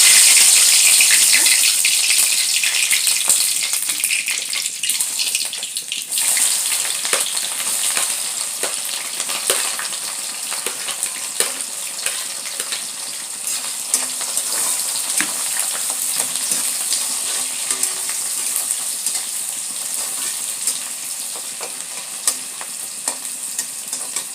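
Onions fry in hot oil with bay leaves, giving a loud, continuous crackling sizzle with dense popping that lasts throughout and eases slightly after the opening seconds.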